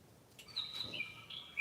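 A bird chirps a few short, high tweets close by in a quiet room, with a brief gap between calls.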